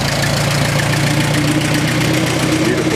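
A 1950s Super A tractor engine runs steadily in gear at a show, a loud, close, continuous mechanical drone with a knocking pulse and no pause.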